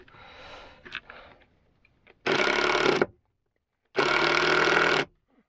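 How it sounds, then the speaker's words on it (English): A screw is driven into wood while a storage closet is built inside a campervan, heard as two loud, even bursts of power driver buzzing about a second long each, separated by a short silence after some nearby rustling. "The first screw is always the toughest."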